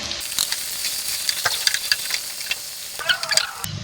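Chopped onions hiss and sizzle steadily in hot oil for keema matar, close up, with scattered crackles and pops throughout. A louder burst of sizzling near the end suggests stirring.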